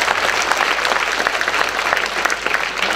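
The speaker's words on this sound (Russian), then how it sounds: "аплодисменты" Concert audience applause during a Russian singer's show, with dense, sustained clapping from a full hall, loud and even throughout with no talking over it.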